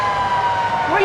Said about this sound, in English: That is the siren.